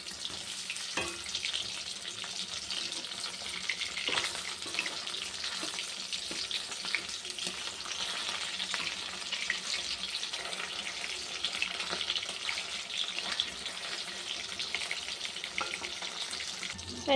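Food sizzles steadily in a frying pan, a soft, even hiss with occasional faint clicks and pops and no voices over it.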